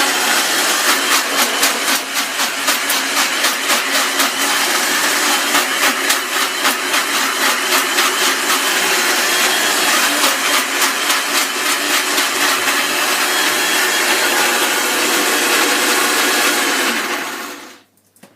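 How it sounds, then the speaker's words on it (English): A kitchen blender blending a green Thai curry paste whirs loudly and steadily with a pulsing rattle, running for a long stretch before cutting off abruptly at the end. "our blender's pretty rubbish"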